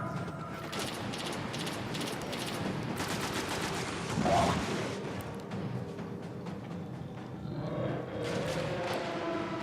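Gunfire in Destiny during a Vault of Glass raid, rapid shots aimed at a central target with rattling bursts and an occasional sharper blast, fairly quiet under a busy game backdrop.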